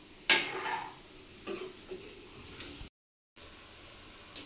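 Palm fruit fritters (taler bora) fry in a kadai with a soft, faint sizzle, marked by a few quiet scraping stirs and a brief gap of silence.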